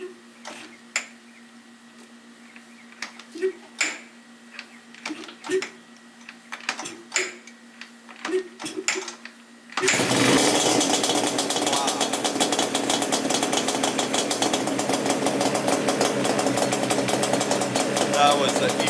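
A 1996 Yamaha Banshee 350 two-stroke quad, freshly rebuilt, is kick-started: several clicks and light mechanical taps, then the engine catches with a sudden loud, buzzy roar that keeps running steadily and close up to the end.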